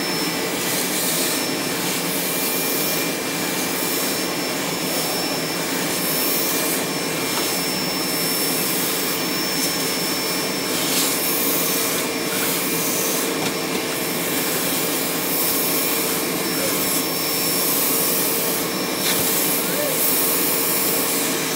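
A Bissell ProHeat Pet carpet cleaner runs continuously on a chair's upholstery, a steady loud whirring suction drone with a faint high whine that holds evenly throughout.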